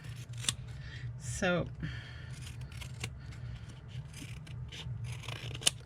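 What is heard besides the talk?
fabric scissors cutting linen tea towel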